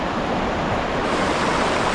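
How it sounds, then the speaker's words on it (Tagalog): A creek runs fast and full after rain, a steady, dense rush of water close by that holds at an even, loud level throughout, with no voices. "medyo malakas na yung tubig sa aming sapa dito."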